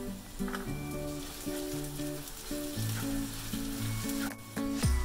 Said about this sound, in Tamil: வெங்காயத்தை நல்லா வதக்கிக்கலாம்.